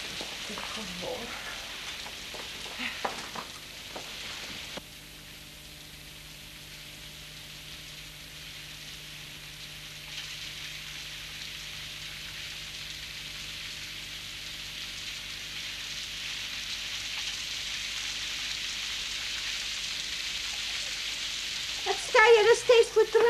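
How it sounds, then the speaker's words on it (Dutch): Steady heavy rain hisses as a dense, even wash for over twenty seconds, with a brief change in tone partway and some clattering at the start and end. Voices are audible faintly in the background. "dan moet je die bosregen zien"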